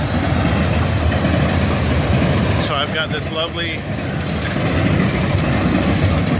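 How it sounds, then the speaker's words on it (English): A freight train rolls past on nearby tracks in a steady loud rumble with rattling wagons throughout, while someone talks briefly over the noise. "This will be interesting because that train is loud, and I'm parking right next to the tracks."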